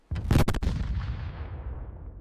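Cannon fire in the 1801 Thi Nai naval battle: a sharp cluster of heavy blasts in quick succession, followed by a long rumbling decay that fades over the next two seconds.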